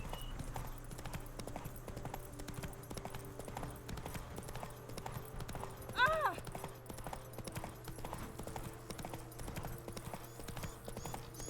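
Horse hooves clip-clopping in The Witcher 3: Wild Hunt – Blood and Wine, a steady repeating gait under continuous talking, with a brief whinny-like burst near the middle and game music in the background.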